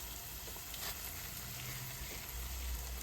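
Food sizzles in a pan while being stirred and loosened from the bottom, a steady frying hiss with a few soft scraping movements, close and fairly quiet.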